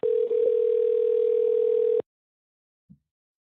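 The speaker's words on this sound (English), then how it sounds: "Calling you back now." Steady telephone dial tone hums loudly for about two seconds, then cuts off abruptly, followed by a brief faint click during a call-back.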